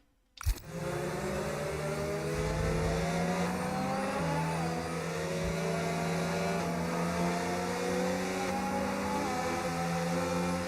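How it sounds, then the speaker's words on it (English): Safety car engine in the F1 25 racing game, starting abruptly and then holding a loud, steady drone with a slight pitch shift partway through, with no speech. "I can hear the safety car from here"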